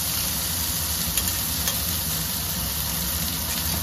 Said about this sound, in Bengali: একটু লাল লাল করে ভেজে নিতে হবে এটাকে